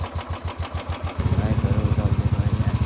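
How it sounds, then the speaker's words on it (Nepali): Motorcycles riding along a narrow mountain road on a trip toward Mustang, a close engine with a pulsing idle-like throb that shifts into a faster, steadier rumble partway through, loud and alone. "बाइकहरू चल्दै गइरहेको छ।"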